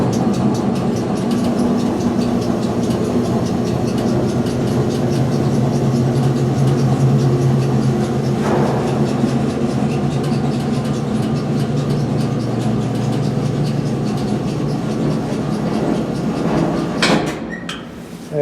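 A National Wheel-O-Vator screw-driven wheelchair lift travels between floors, giving a steady, loud mechanical hum and rumble with a low drone throughout, a brief clunk midway and a sharper clatter as it stops near the end.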